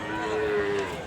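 A big bull at a cattle market lets out a single drawn-out moo, fairly close and steady in pitch over a low background murmur.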